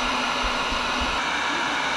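A heat gun blows with a steady, close, constant whir while melting beeswax into a leather waterskin.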